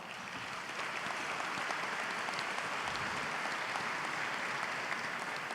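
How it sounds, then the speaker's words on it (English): Steady applause from an audience at an annual meeting, honoring a high school scholarship recipient along with his parents and teacher; even, sustained clapping filling the room without pause. "Let's give them a round of applause."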